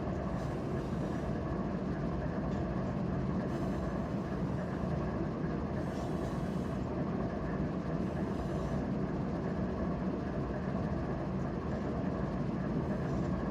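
A train rolls past on a railroad near a crossing, a steady, loud, continuous rumble of wheels and cars with no pause for the whole passage.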